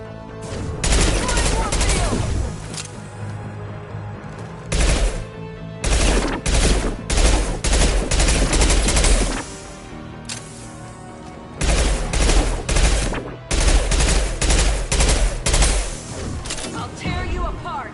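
Gunfire in the sci-fi video game Mass Effect 2, including a high-impact shot, heard as loud bursts of rapid shots separated by short pauses, with booming impacts and game sounds between the volleys.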